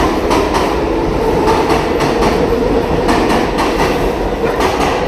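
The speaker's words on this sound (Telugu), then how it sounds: "ఐ థింక్ ఆ ట్రైన్ పట్టాల సౌండ్ ఉంటుంది చూడండి" Train wheels clacking over rail tracks during an Indian train journey, a loud, steady rumble with a repeating clickety-clack rhythm, close and without speech.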